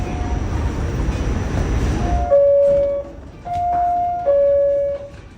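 A local subway train rumbles along for about two seconds, then the noise drops away and three loud, sustained electronic tones ring out in turn, like a door or station chime. No one speaks.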